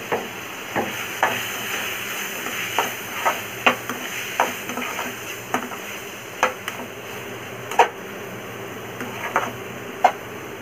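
Prawns with ground pepper, cumin and coriander powder stirred in a pan, a low sizzle under a steady run of sharp spoon scrapes and clinks at an irregular, unhurried pace, close by with no talking.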